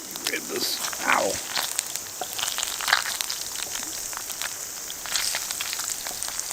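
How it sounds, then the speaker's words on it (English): Rain drums on tent fabric during a storm at a camping site, a dense, steady close patter with scattered crackly drops and a brief faint human sound. "Oh my god, it's raining."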